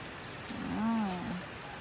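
Steady rain hisses softly throughout, with a brief faint tonal sound rising in the middle.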